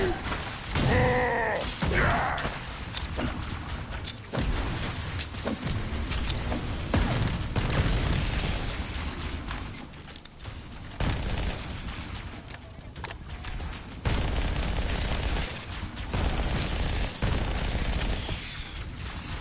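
Gunfire in Halo: Combat Evolved's campaign, a dense barrage of shots and bursts with booming impacts that keeps going with short lulls, mixed with game effects and occasional talk.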